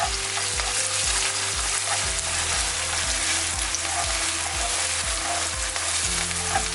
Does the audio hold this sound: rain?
no